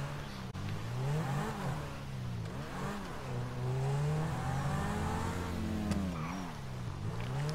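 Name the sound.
car engine revving in video game GTA V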